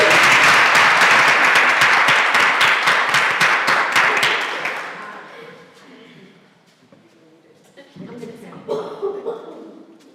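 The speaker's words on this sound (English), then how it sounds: "Please give her a warm round of applause." Loud, dense applause from an audience fills the first half, then fades into scattered claps and light chatter.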